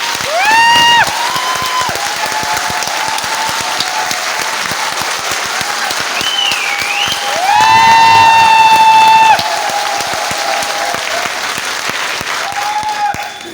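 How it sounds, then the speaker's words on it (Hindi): An audience at a business seminar claps steadily with no music, a dense, loud applause that swells briefly partway through, with some whistles and cheers above it. "बिना म्यूजिक के ताली बजा सकते हैं क्या?"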